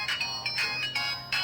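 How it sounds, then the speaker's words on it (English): A 4G GPS tracker pendant with SOS alarm plays its power-up ringtone: a short, clear electronic melody of a few quick tones, heard alone. "You will hear a ringtone."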